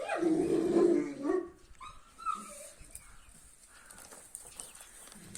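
A Kangal dog gives a short, close bark followed by quieter whines and snuffles, with a few faint bird-like chirps in the background.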